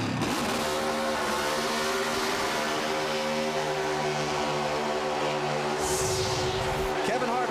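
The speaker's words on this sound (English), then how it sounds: "Let's see what kind of burnouts and donuts he does." NASCAR Chevrolet Monte Carlo stock car doing burnouts and donuts after a race at Indianapolis, its engine roaring and revving continuously at high pitch, loud and sustained under crowd and broadcast noise.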